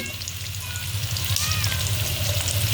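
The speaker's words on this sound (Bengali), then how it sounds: "এটা বাদামি কালার হওয়া পর্যন্ত ভাজতে হবে।" Bay leaves, green and black cardamom and cinnamon, added after sliced onion, frying in hot oil give a steady, close sizzle with a low bubbling hum underneath, unbroken for the whole stretch and no voices.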